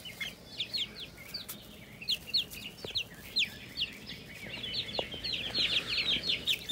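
Splash Marans chickens with feathered feet cluck inside a cottage coop, several birds making repeated short clucks and chirps at moderate distance.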